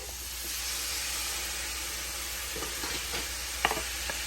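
Onion and scallion sauté in butter in a pan, a steady broad hissing sizzle holding evenly throughout, with a few light utensil scrapes and taps toward the end, close and moderately quiet.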